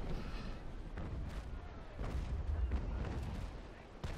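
Naval Action ship cannons boom in a low, rumbling series of blasts throughout, with a heavier burst midway, alongside faint voice in the background.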